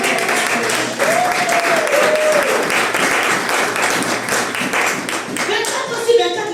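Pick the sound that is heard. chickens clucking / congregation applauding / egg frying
congregation applauding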